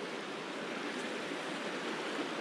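A river at Little East Fork Blacks Fork rushes beside a mountain trail, giving a steady, even wash of flowing water with no distinct splashes and no voices.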